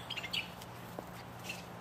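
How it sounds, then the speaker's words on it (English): Birds squawking and chirping up in trees at a new home, several quick scattered calls early and another near the end, faint and somewhat distant over quiet outdoor background. "Look at those birds fighting up there."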